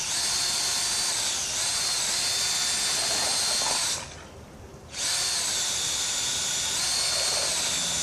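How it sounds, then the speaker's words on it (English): A paint blender runs in a greenhouse, mixing the reservoir of a Dutch bucket growing system with a loud, steady high-pitched whirring hiss that cuts out for about a second midway and then resumes. "It's just a paint blender"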